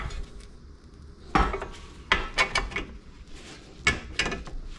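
Metal parts clink and clatter in a few distinct bursts as a tie rod end is fitted on a Jeep XJ steering knuckle, with sharp, close knocks separated by quieter handling noise.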